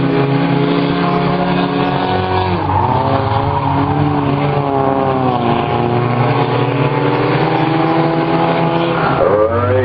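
Race cars in a figure 8 train race at a speedway roar past at full throttle, a loud, continuous engine drone with pitch sweeping down as they pass, close and without talk.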